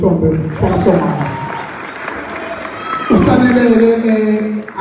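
Audience applause from a crowd of university students at a campus gathering, steady clapping with cheering swells over a murmuring crowd, loud and close, with voices mixed in.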